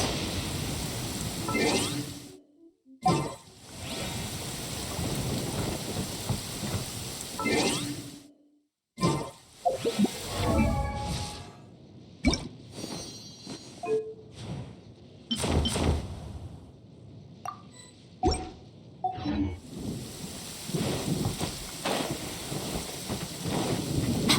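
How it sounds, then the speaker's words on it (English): Rain and rumbling thunder from the Genshin Impact video game, a steady wash of rainfall broken by several loud cracks and booms, with brief drops to silence between passages. "If this rain keeps up, my fur will be dripping wet."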